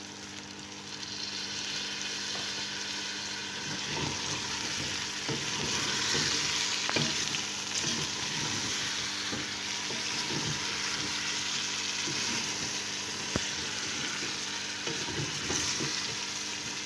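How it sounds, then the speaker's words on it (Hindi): Beef trotters (paye) fry in a pot, with a continuous soft sizzle and bubbling and occasional stirring scrapes and clinks, close by and steady throughout. "हमारे पाए बहुत अच्छे से फ्राई हो रहे हैं।"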